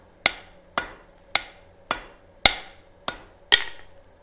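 Seven sharp metallic hammer strikes ring out in a blacksmith forge, spaced roughly half a second apart, each bright and close with a short decaying ring and no talking.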